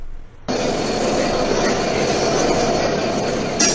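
The new Rupashi Bangla Express passenger train runs on the Dhaka–Benapole route over the Padma Bridge, roaring loud and close in a steady, continuous rumble with faint wheel squeal and rail clatter.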